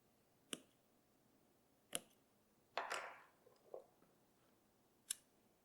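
Small scissors snip loose stitching thread from a laser-cut leather bi-fold wallet: a few sharp, isolated clicks and one brief rustling cut in an otherwise quiet room.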